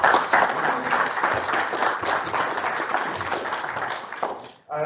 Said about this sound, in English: There's another round of applause.